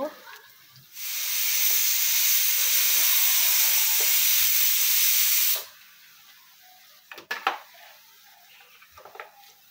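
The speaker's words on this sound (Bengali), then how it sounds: "এখানে পেঁয়াজ কাটা ভেজে নিচ্ছি" Chopped onions sizzle hard in a hot pan for red-fried dal, a loud broad frying hiss that starts suddenly, holds steady for several seconds, then cuts off, leaving quieter clinks and scrapes of cookware.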